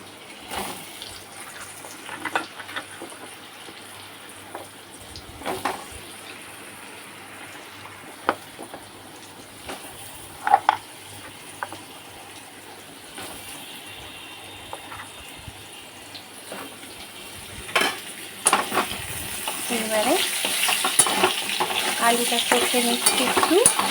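Potatoes frying with lentil dumplings and panch phoron spices in a pan, a low steady sizzle with scattered stirring scrapes and knocks that swells louder toward the end.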